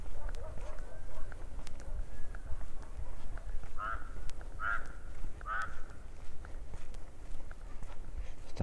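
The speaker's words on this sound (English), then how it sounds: "Starting to tune into the sound of the birds and animals." Birds call in the dry Avalahalli forest north of Bangalore, a few honking cries in a cluster midway, moderately distant, over a low rustling outdoor ambience with soft movement noise.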